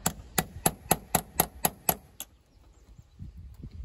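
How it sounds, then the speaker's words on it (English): Eight sharp metallic taps of a small hammer striking a punch to drive out a roll pin on a Ford F150 clutch slave cylinder, quick and even, close and ringing, followed by quiet shuffling. "I'm gonna use a small punch, a small hammer to knock that roll pin to get it started"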